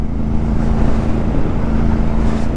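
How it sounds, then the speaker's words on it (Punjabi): A motorcycle engine drones loudly and steadily, pulled hard on a rough mountain road on a Patiala to Spiti ride, a continuous near roar with no pauses. "ਗੋਵਿੰਦ ਵੀਰਾ ਹੁਣ ਖਿੱਚ ਰਿਹਾ ਮੋਟਰਸਾਈਕਲ ਪੂਰਾ"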